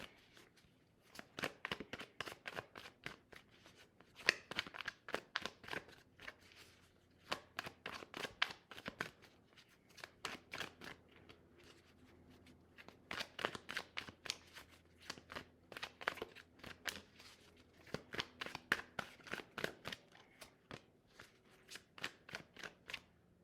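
Tarot cards are riffled and shuffled in repeated quick bursts of crisp flutters, separated by short pauses, close and fairly quiet, with no voices.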